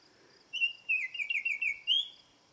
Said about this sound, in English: And that is the sound of the Baltimore Oriole.